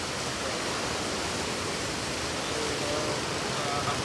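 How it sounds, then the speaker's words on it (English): Waterfall on the Thiba River in Kirinyaga, heard as a steady, dense roar of falling water that stays even and unbroken throughout. "So the waterfall is right there"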